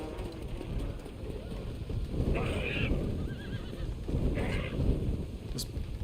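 A horse in the video game Red Dead Redemption Undead Nightmare whinnies twice in short bursts over steady game ambience and hoof clatter, while a person talks throughout.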